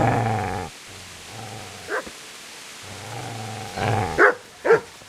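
A dog in Kingdom Come: Deliverance growls low and steady, then lets out a few sharp barks and yips near the end, close and loud between quieter rumbling stretches.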